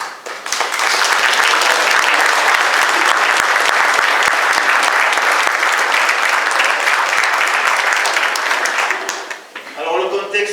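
Loud, dense applause from a concert audience honoring the conductors of a community orchestra in Sainte-Cécile-d'Andorge, sustained steadily for about nine seconds before fading, then a voice begins speaking.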